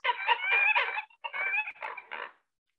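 A run of nasal, squawking American coot calls in a few quick clustered bursts, fairly close and heard alone.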